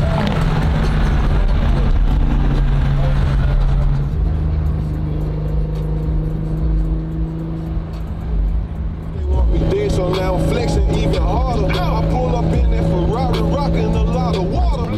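A car driving along with a steady engine hum and road noise, louder throughout, then slowing as it pulls up beside a Tesla charger; faint voices and music-like tones sit under the engine.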